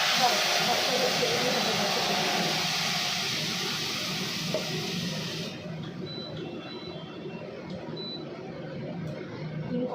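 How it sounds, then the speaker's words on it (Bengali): Eggs sauté in a spice paste of tomato, giving a steady, fairly loud frying hiss that runs continuously and then drops sharply to a quieter sizzle partway through. "ডিম কষা চলছে"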